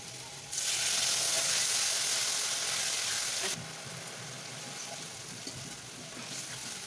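Water is poured into a pan of frying potatoes and bitter gourd, causing a sudden loud hiss and sizzle that lasts about three seconds, then settles to a softer, steady simmering crackle.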